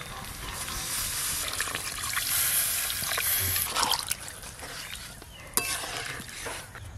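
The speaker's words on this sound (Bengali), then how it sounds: "এবার আমি পরিমাণ মতো জল দেব।" Water is poured into a pan of spiced potatoes that were sautéed with masala and sour yogurt for aloo dum, giving a steady close trickle and stir over a low sizzle, with one sharp clink near the end and no talking.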